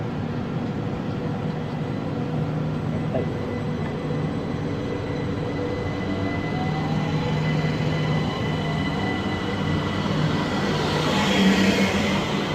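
A multi-unit passenger train runs through Newington station on the Chatham Main Line in Kent, a steady loud rumble of wheels and traction that swells slightly toward the end, with no talking.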